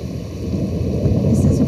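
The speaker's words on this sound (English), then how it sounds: "the roll of the thunder and the crack of the lightning" Thunder rolls during a rainstorm as a deep, continuous rumble that swells slightly toward the end, loud and close over a wash of rain.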